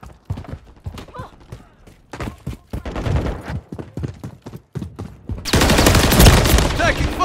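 Assault rifle fire in a Call of Duty MW3 Team Deathmatch on the Invasion map, SVA-545 rifle: rapid bursts of close, sharp shots in irregular volleys, ending in a dense, loud sustained barrage.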